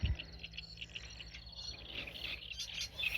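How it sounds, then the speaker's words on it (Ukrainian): Birds chirp and sing in repeated high calls over a steady low hum, with a continuous insect-like trill in the background; no one speaks. "Послухайте, як співають пташки."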